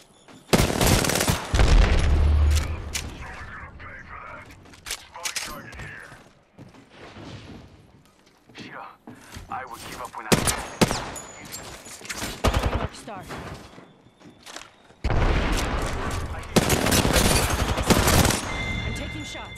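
Apex Legends firefight with loud, rapid automatic bursts and single sharp shots coming in clusters, broken by mechanical reload clicks and quieter gaps, with players talking over the action.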